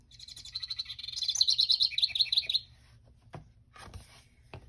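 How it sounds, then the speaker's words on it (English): A house wren sings a rapid, bubbling trill of high chirps lasting a couple of seconds, followed by a few faint clicks and quiet rustling. "So you have the house wren,"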